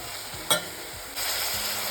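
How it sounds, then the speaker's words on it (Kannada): Steady sizzling of tomatoes cooking in hot tempering in a pan, with a brief clatter of stirring and the frying growing a little louder partway through. "ನಾನಿವಾಗ ಟೊಮೆಟೊ ಬೇಯಕ್ಕೆ ಹಾಕಿದ್ದೀನಿ"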